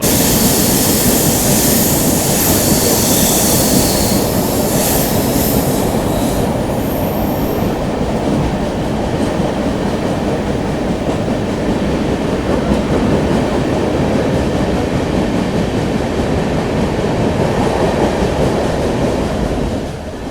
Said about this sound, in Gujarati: આપણી જે ટ્રેન છે તે એન્ટર થઈ ગઈ છે કસારા ઘાટ સેક્શનમાં